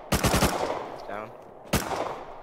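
Rapid automatic gunfire in the video game Rust: a fast burst of four or five shots, then a single shot a moment later, loud and sharp against a steady background.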